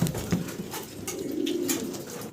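Soft, low cooing from young fancy pigeons repeats in a steady murmur, close by, with no talking.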